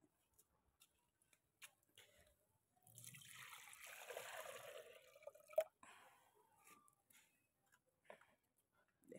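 Water poured into a pot of rice, a soft splashing pour of a couple of seconds rising and then trailing off amid faint scattered ticks and drips, quiet and close.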